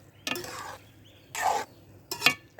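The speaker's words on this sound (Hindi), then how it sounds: "और ये मैं इसको मिक्स कर देती हूँ" Sweet zarda rice with spices and sugar stirred in a pot, three separate scraping, swishing strokes spaced unevenly, close and fairly loud against a quiet background, with no talking.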